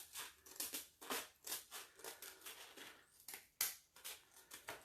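Coarse sandpaper sheet cut with scissors into a smaller piece while making vintage-style fruit crates from wood boxes: a series of close, crisp snips and rustling paper crunches in an uneven rhythm, with no talking.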